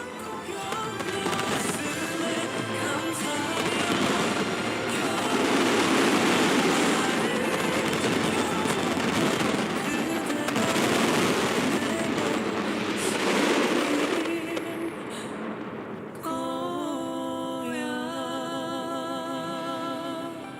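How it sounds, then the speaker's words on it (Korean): Fireworks display at Yeouido: a dense, continuous roar of bursts and crackling for about fifteen seconds, loud and sustained, then the barrage drops away and a calmer tonal sound takes over at the end. "폭죽의 그 소리가 엄청났습니다"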